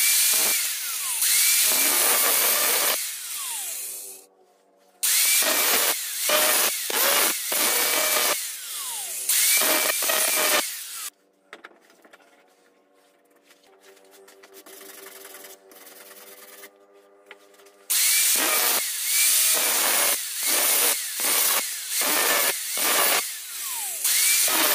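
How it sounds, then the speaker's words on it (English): Angle grinder cutting through a short weld on a metal coil for a resistance forge, loud, close bursts of harsh whining grind separated by brief pauses, with a quieter ringing stretch midway where the disc spins down, no speech. "I will cut that with an angle grinder"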